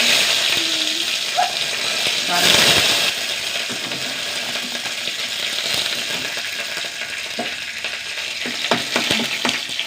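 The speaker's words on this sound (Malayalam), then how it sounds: "താളിക്കാൻ വേണ്ടി മാത്രം ഒന്ന് ചൂടാവട്ടെ കുറച്ച് കടുക് കൊടുക്കട്ടെ" Mustard seeds sizzle and crackle in hot oil being heated for tempering in a South Indian kitchen, a steady frying hiss with scattered pops and clinks, heard close with no talking.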